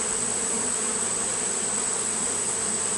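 Honeybees swarming around an open hive during a late-summer inspection, a continuous dense buzzing drone close by, steady in level with no talking.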